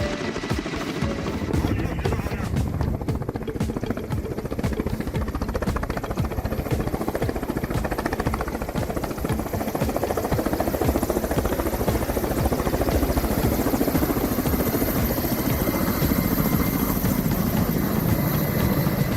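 A firefighting helicopter hovers during a wildfire water-bombing run with an 8,000-litre drop: a loud, steady rotor and engine roar that stays close and continuous throughout.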